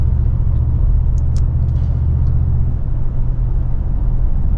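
A Mercedes G-Wagon drives at night in Dubai, heard from inside as a steady, loud low engine and road rumble with a few faint high clicks over it.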